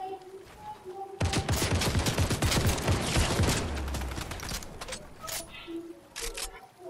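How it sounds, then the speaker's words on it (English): Rapid bursts of gunfire in the Fortnite video game, loud and dense for several seconds, then thinning to scattered shots amid quieter game sounds and occasional voices. "They're getting shot from behind."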